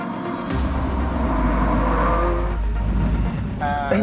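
A Ferrari F355 GTS engine fitted with a full stainless steel exhaust and stainless steel headers idles and rumbles loudly, with a steady deep drone that swells slightly before easing off.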